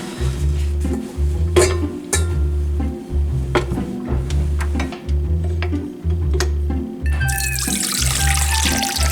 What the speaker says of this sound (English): I'm gonna put just a little bit of water on them so they can be soaking